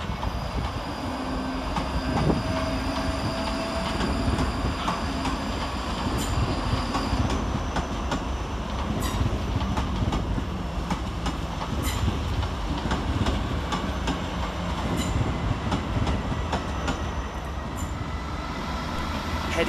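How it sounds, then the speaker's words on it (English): ScotRail Class 334 electric trains move through Edinburgh Waverley station, a continuous loud rumble with rhythmic wheel clicks over rail joints and occasional high squeals across the whole stretch. "Coming out of the darts on the far side is 334002 and 334036, working the 1437 ScotRail service to Helensburgh Central."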